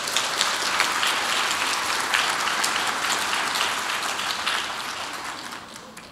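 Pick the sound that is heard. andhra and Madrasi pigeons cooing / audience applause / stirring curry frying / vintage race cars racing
audience applause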